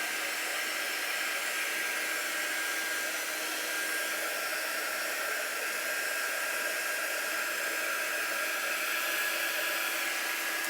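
A hair dryer blows steadily and continuously at moderate volume while drying ink on a pillow case, a constant breathy whoosh with no talking.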